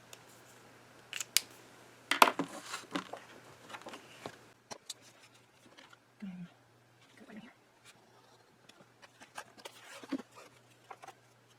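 Scissors snipping through a paper journal page to cut out its center, with irregular close crisp snips and paper rustles, a busier burst early on, then sparser cuts and handling noises over a steady low hum.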